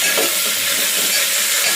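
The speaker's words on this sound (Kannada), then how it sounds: "ಟೊಮೊಟೊ ಕಾಯಿ ಮತ್ತು ಹಸಿಮೆಣಸಿನ್ಕಾಯಿ ಹಾಕ್ತಾ ಇದ್ದೀನಿ." Tomatoes and green chillies fry in hot oil inside a cooker, giving a steady, close, broadband sizzle and hiss that runs unbroken throughout, with no voices.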